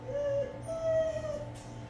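A dog whimpers and howls in short, drawn-out tonal cries over a steady low hum, fairly close and alone without talk.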